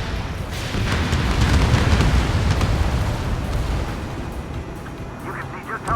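Missile launch and explosions in the aerial combat game Ace Combat 7, a dense sustained rumbling roar with booming blasts that swells and slowly fades.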